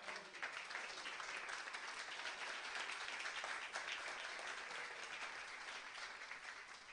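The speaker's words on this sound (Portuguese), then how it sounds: "Uma salva de palmas para o Senhor Jesus." A church congregation claps together, producing dense, even applause that stays at a steady level for several seconds with no voices over it.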